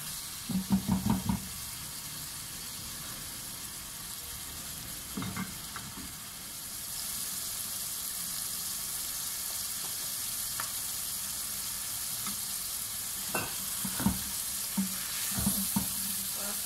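Steady sizzle of potato and pea curry frying in a pan, with a few clinks and scrapes of a spoon stirring, close and moderately loud.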